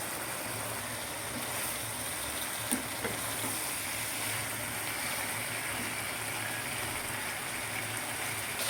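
Puti fish frying in a pan with green chillies, a steady, fairly close sizzle and crackle that runs the whole time with a couple of small clicks, and no one speaks.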